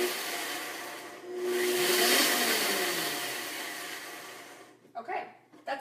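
A blender pulsing oats whirs up loudly for a few seconds, rising and then winding down, before brief talk at the end.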